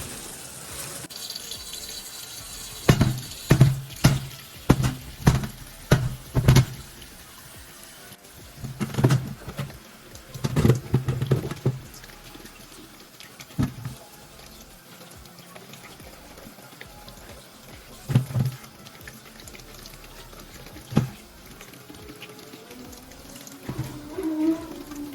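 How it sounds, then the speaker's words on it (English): Red potatoes rinsed under a kitchen sink tap, with running water and bursts of knocking and splashing as they are handled, intermittent and close, quieter stretches between. "so I'm gonna go ahead and wash the potatoes off"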